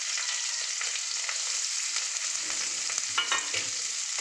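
Nigella seeds, green chilli and onion fry in hot oil in a wok, a loud steady sizzle throughout with a few light stirring scrapes near the end.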